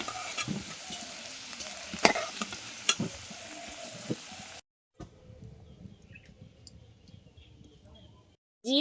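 Potatoes frying in hot oil in a pan at a village cookfire, a steady close sizzle with scraping stir clicks, then a quieter crackle after the pieces are lifted out; no talk.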